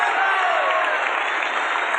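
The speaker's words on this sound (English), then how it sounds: "Bravas, bravas from everywhere." An outdoor opera crowd at a San Francisco park concert in 1983 applauds and calls out for an encore after Welsh soprano Margaret Price sings, a dense, continuous wash of clapping heard from a distance.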